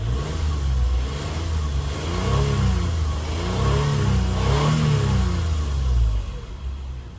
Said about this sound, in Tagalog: try natin i-rev yung kanyang makina.